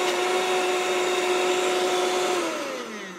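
Vitamix blender pureeing butternut squash to a fine smooth texture, a loud steady motor whine close up that begins to wind down near the end.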